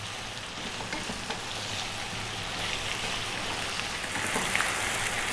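Potatoes frying in a chicken stew pot over medium heat give a steady, close sizzle with faint stirring scrapes, unbroken and free of talk.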